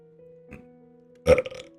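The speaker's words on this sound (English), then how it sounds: "I'm here fucking burping my ass off" A person burps once, a loud, close, gurgling belch, preceded by a softer throaty gulp over a quiet musical hum.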